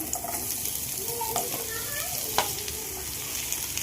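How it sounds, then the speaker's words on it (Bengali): Two sliced onions tipped into a hot pan of white oil fry with a steady sizzle, with scraping and stirring clicks through it, and a faint voice in the background. "প্যানটা গরম হয়ে গেছে। এবার আমি এখানে 2টো পেঁয়াজ এভাবে কেটে রেখেছিলাম, সেটা দিয়ে দিলাম।"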